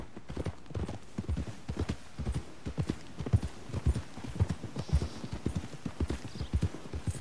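Rapid rhythmic hoofbeats of a horse galloping in Red Dead Redemption 2, a steady drumming clip-clop close by, with a faint ambient backdrop and no voices over it.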